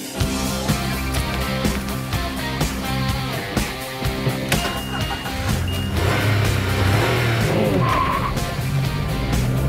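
A Mitsubishi Space Star Sport launches hard with its wheels spinning and tires squealing, the small engine revving loudly and nearby amid choppy bursts of skid noise.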